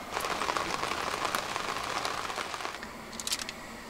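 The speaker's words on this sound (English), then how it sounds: "it's just pouring down with rain" Heavy rain pours down outside a narrowboat, a dense, steady patter that eases slightly toward the end.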